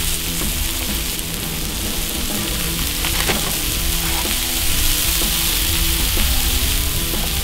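Smash burgers topped with cheese sizzle and fry on a Cuisinart 360 griddle, a steady close crackling hiss that holds throughout with loud music in the background.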